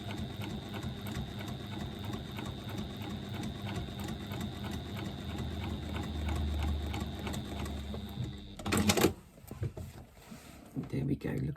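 A sewing machine runs steadily and close while top stitching a fabric pouch, a continuous rapid whirring hum that stops near the end, followed by a brief clatter and a few faint handling sounds.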